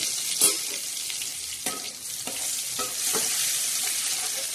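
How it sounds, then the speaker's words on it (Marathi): Curry leaves and cumin seeds sizzle in hot oil in a kadai, a steady close crackle with a few sharp pops as the tempering is made, no voices. "त्याच्यात तेल टाकलेलं आहे तर मैत्रिणी आता कडीपत्ता आणि थोडस जिरे टाकलेले आहे"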